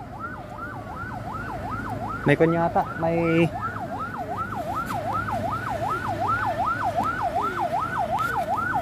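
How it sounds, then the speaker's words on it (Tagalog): Ambulance siren wailing steadily in a rising and falling cycle along a road, loud and continuous, with a brief burst of other tonal sounds and a voice speaking partway through. "May ambulansya oh."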